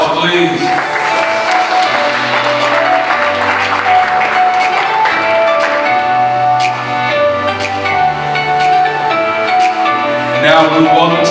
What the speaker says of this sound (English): Let's give Miss Mary another round of applause